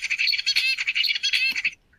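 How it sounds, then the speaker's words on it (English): An adult male songbird's recorded song, a rapid, bright string of high chirping notes lasting under two seconds, close and clear with no talk. "this is the song of the father on top."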